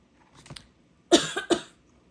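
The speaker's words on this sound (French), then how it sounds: "Excusez-moi, je tousse." A few quiet throat noises, then two or three sharp, close coughs in quick succession before falling silent.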